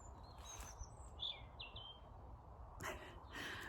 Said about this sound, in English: We've had loads of finches in the garden over the last week or two.